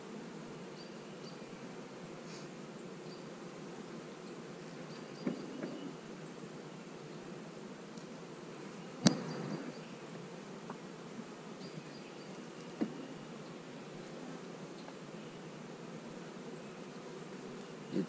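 A swarm of honey bees buzzes steadily around a hive, a dense, continuous low drone close by with a few faint knocks and clicks over it.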